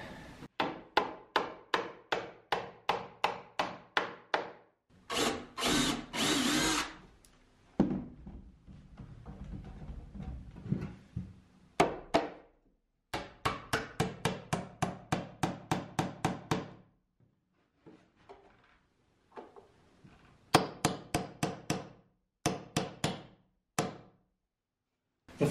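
Tongue-and-groove wood siding is nailed in place with rapid series of sharp hammer blows, several bursts of evenly spaced strikes separated by pauses and some shuffling and scraping.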